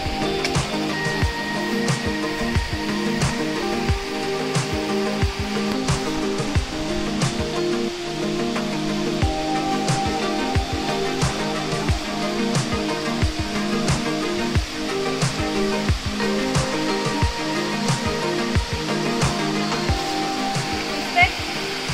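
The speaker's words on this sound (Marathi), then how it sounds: "3 ते 4 धबधब्याचे छोटे छोटे प्रवाह झालेत" Continuous rushing water from three or four small roadside waterfall streams pouring down nearby in Ratnagiri, Konkan, steady and fairly loud throughout.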